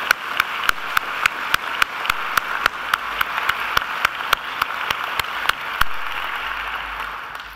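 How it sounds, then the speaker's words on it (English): Graduation audience at a Macquarie University ceremony applauding, heard as a steady run of evenly spaced, crisp claps standing out over a soft continuous hiss of the crowd. "I think we should give her another round of applause"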